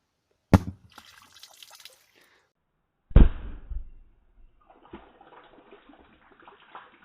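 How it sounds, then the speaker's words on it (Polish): Two sharp Tropic Mini Corsairs firecrackers burst in water a few seconds apart, each a loud close crack followed by splashing and dripping water. "Sprawdźmy też, czy wybuchają w wodzie."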